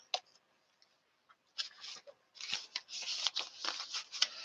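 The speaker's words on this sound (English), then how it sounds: "So while I'm shuffling for Aquarius" Tarot cards shuffled by hand, starting with scattered light taps and clicks and building into steady, dense papery riffling, close and unaccompanied by speech.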